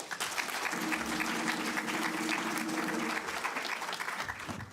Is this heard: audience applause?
yes